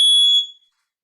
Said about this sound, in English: My fire alarm just went off for 1 beat.